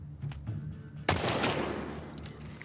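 Rifle gunfire from an enemy in The Last of Us Part II, a sharp loud shot followed by a sustained burst of rapid fire and game ambience, with no voices.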